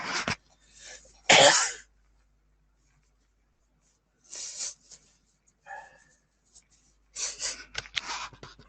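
A few short, sharp bursts close to the mic, like coughing or a throat being cleared, separated by stretches of quiet.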